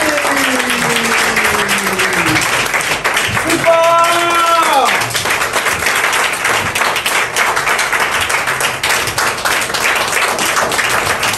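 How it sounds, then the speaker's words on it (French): Audience at the inauguration event of Global Market Investment in November 2023 bursting into loud, sustained applause, dense clapping filling the room from start to finish, with a brief tonal sound and voices mixed in partway. "Je vous demande d'applaudir très fort, de vous lever d'abord et d'applaudir très fort"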